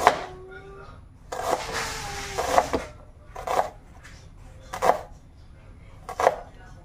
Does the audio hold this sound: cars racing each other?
no